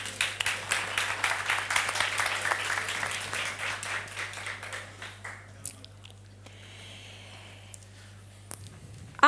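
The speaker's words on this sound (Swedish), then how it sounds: "Vi kan väl ge dem en applåd tycker jag" Audience applause for a panel of speakers at a public discussion, a dense burst of clapping from a room full of people that fades out over several seconds into quiet.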